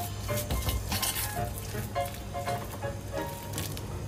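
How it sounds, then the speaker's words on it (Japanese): A spoon stirs a small mixture of soy sauce and miso with a little sesame oil during preparation of a miso hot pot, giving soft scraping and clinking against the bowl over a steady background sizzle. "これをスプーンで混ぜます。"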